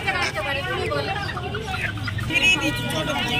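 Hens clucking amid a busy poultry market in Nepalgunj, continuous close clucks and bird calls mixed with market chatter and voices nearby.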